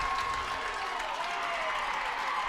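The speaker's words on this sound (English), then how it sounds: "as the Little Chute faithful on its feet and clapping its hands." A high school football home crowd stands and claps as the game winds down, a sustained mass of applause heard from a distance with no voices on top.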